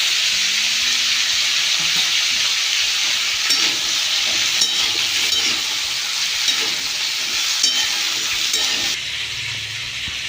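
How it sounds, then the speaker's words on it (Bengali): Mixed vegetables sizzle steadily in a hot pan, with occasional clinks and scrapes of stirring over a continuous frying hiss. The sizzle softens slightly near the end. "সবজিগুলো ভাজা হয়েছে"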